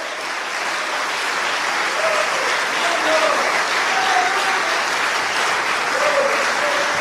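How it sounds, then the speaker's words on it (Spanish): A church congregation in Fort Lauderdale bursts into sustained, loud applause at an evangelical service, a dense continuous roar of clapping with faint voices and shouts woven through it. "Dale un aplauso al Señor."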